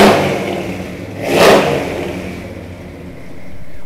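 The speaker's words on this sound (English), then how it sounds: "I'm going to fire it up because I want you to hear it" A 1967 Ford F100 pickup engine runs close by, swelling into a single brief rev around the middle before settling back to a steady mid-pitched idle with some light clatter.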